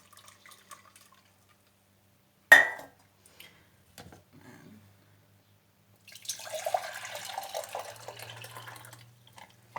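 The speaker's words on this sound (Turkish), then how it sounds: "Şunun İnce bir süzgeçten ya da isterseniz tülbentten geçirebilirsiniz." Homemade lemonade is poured through a fine strainer in a home kitchen. A sharp clink comes first, then a few faint knocks, then a steady pour of liquid trickling through the mesh close up, with no talking.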